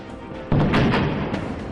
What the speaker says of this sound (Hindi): बम धमाका